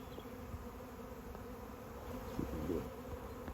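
A massive honey bee swarm congregating on a tree limb outdoors, giving a faint but continuous droning buzz with a few individual bees passing nearby.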